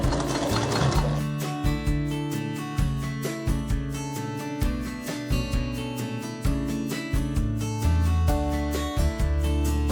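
A sewing machine top-stitches alongside a bag zipper, making a loud close-up mechanical clatter. It runs in short rhythmic bursts with brief stops and restarts between them.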